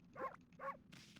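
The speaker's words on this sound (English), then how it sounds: "I'm barking." Two quick, yappy dog barks from the video game Okami HD sound in close succession at low volume, followed by a brief soft rustle.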